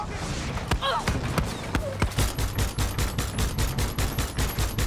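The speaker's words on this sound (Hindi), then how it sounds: "ये ये यस, फायर तो जबरदस्त वाली हो रही है।" Heavy gunfire in the video game Far Cry 6 comes as a fast, close string of sharp shots that turn into a rapid, evenly spaced burst in the second half, with a few scattered earlier shots and brief sounds of action underneath.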